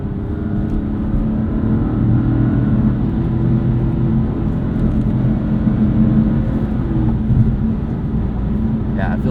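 A 2016 BMW M3 sedan drives a hilly road with steady engine and road noise, close and continuous, while people talk over it.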